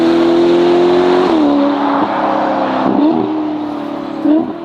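A Novitec Ferrari Portofino M with an aftermarket exhaust revs loudly and close, a sustained roaring engine note that dips and climbs through several quick throttle blips.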